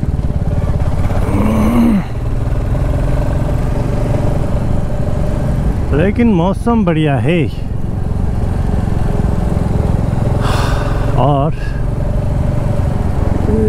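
A motorcycle rides along a forest highway in Sikkim, its steady engine drone running throughout under continuous talk from the rider.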